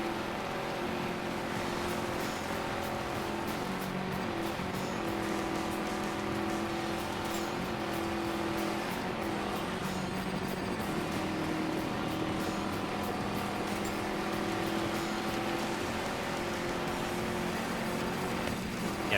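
A Hummer racing in the off-road video game Gravel, with a steady engine drone and tire noise running throughout at constant loudness and no voices.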